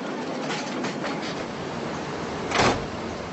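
Passenger train running on a railway in Orenburg, Russia, heard as a steady broadband rumble from on board with faint rhythmic clatter and one brief louder swell near the end, no voices.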